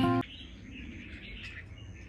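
Caged red-whiskered bulbuls call from a bird trapping area in Lang Son, a short burst followed by thin, sustained chirping and twittering, moderately close and without talk.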